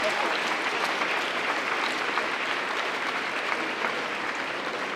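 Sustained applause from a crowd at a nighttime outdoor street gathering for Catholic prayers and Mass in Paris, honoring the police; dense, steady clapping fills the whole stretch at even loudness with no break.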